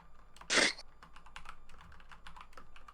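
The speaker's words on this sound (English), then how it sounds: "I'm typing the list out up." Fingers type quickly on a computer keyboard at close range, an irregular patter of light clicks broken by one louder thump of a key or bar early on, with no talk over it.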